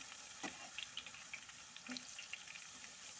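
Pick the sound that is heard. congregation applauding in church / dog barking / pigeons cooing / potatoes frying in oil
potatoes frying in oil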